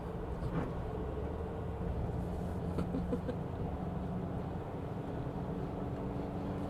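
A JMC Vigus Pro pickup truck engine at full throttle while climbing uphill gives a steady, loud, unbroken drone from the cabin, mixed with a rushing wind-like roar and no talk.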